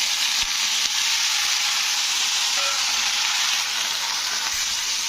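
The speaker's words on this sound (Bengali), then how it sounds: "তো সবজিগুলো দিয়ে এবারে সবজিগুলোকে একটু লাল লাল করে ভেজে নিতে হবে।" Vegetables for a simple spinach curry frying in hot oil in a pan after the spices are tempered, giving a steady, loud, continuous sizzle with no talking over it.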